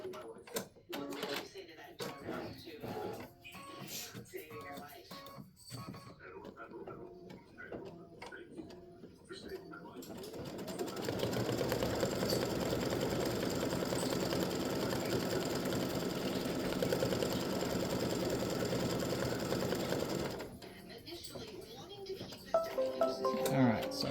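A home embroidery machine stitches black thread on a Halloween witch and spiders design, its steady rapid chatter running for about ten seconds in the middle, with a person talking before and after.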